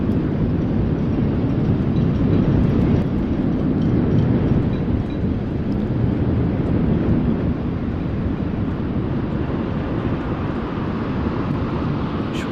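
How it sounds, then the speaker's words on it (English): Strong wind buffeting a microphone at a Southampton dockside, a loud continuous low roar with gusting rumble throughout, nothing else distinct. "The wind's really picked up."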